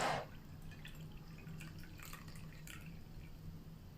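Cold-brewed tea poured through a strainer, a soft continuous trickle and patter of liquid with light drips, steady and close for several seconds.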